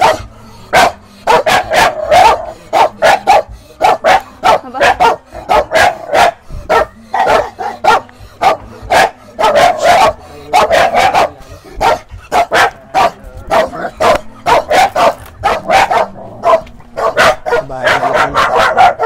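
A dog barking near a run-down, damaged house: a long string of loud, close barks and yips in irregular rapid bursts, nearly continuous, with faint voices talking underneath at times.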